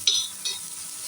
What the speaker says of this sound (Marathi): कांदा लाल असा मी परतून घेत आहे, लाल होईपर्यंत, सोनेरी रंगाचा दिसेपर्यंत.